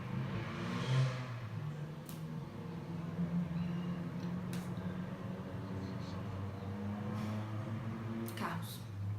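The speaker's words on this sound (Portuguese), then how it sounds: "Carros." Traffic rolls past at a distance, a steady low rumble of several cars with gentle swells of passing engines, faint and continuous throughout.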